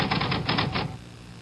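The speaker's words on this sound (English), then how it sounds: "The Smith Corona cartridge ribbon typewriter." A Smith Corona cartridge ribbon typewriter types a rapid burst of about six crisp, close key strikes, then falls quiet.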